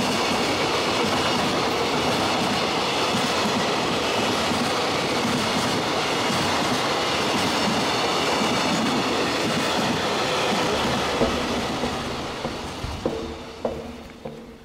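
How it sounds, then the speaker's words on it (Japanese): A freight train rolls steadily past Numazu station in Shizuoka, a loud, continuous rumble with wheel clatter that fades near the end as rhythmic clicks from the wagons trail off. "駅は貨物鉄道駅でもあり、貨物列車も見られる。"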